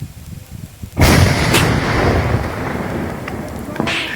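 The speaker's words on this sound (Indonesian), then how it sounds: "Gila, itu bukan petasan, itu itu meriam itu." A cannon fires at a sound check, a sudden loud booming blast that rolls into a long, heavy rumbling tail, with a smaller bang near the end.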